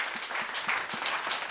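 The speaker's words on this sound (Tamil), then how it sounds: "ஒரு பலத்த கைத்தட்டல்." Audience applause at a Tamil painting-themed stage event, a steady dense patter of many hands clapping together for a short burst, moderately loud with no voices over it.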